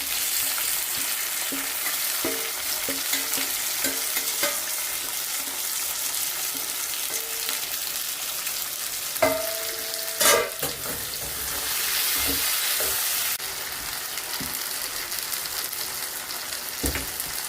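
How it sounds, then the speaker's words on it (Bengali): Fried eggplant with garlic and chilli sizzles steadily in hot oil, a loud continuous frying hiss with scattered spoon clinks and scrapes from stirring. "এবারে আমি এতে দিয়ে দিচ্ছি ভাজা বেগুনগুলো।"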